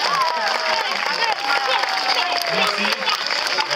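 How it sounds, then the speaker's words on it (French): A festival audience applauds for a performer named Thomas, a dense wash of clapping and some cheering held steady throughout, with a voice speaking briefly over it. "un fort applaudissement pour Thomas"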